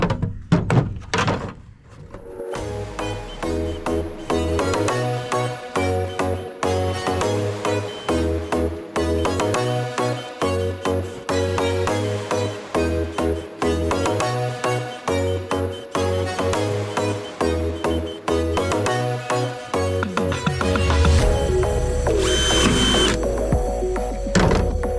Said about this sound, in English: I'm going to drill holes all across this bucket.